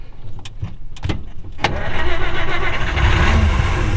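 A 1934 Dodge Brothers 5W Coupe engine cranking with a few short bursts, then catching and settling into a steady rumbling idle with a slight rev, close and loud.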